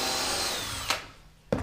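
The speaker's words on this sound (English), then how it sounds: "we're going to go ahead and take out our screws that's holding the anchor portion of the shelf" A power drill backs screws out of the wooden anchor piece of a floating shelf, a steady whirring run followed by two short bursts as the drill catches and stops, close and fairly loud.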